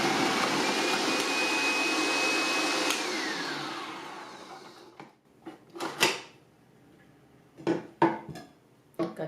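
A Hamilton Beach Stack and Snap food processor slices cucumber pieces pushed down the chute with the large food pusher, giving a loud steady motor whir for about five seconds that then stops, followed by a few clattering knocks.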